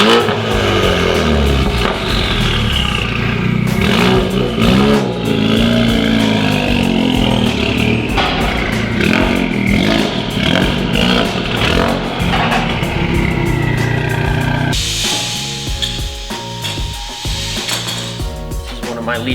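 A Ford Focus RS with full bolt-ons, running on 91 fuel, revs hard on a chassis dyno. The engine sound is loud and steady and climbs through the pulls, with a shift in tone near the end and no talk over it.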